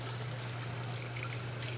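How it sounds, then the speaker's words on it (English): Hot water running steadily from a kitchen tap, a constant close hiss of flowing water with a low hum beneath it, no talking. "If you use hot water, please let it run for a while until it really feels hot."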